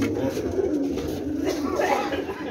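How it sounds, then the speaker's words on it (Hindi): Pigeons coo from a rooftop loft as the flock is let out, soft throaty calls repeating over a busy, noisy background with wing flutter and some movement nearby. "कबूतर खोले जा रहे हैं सारे"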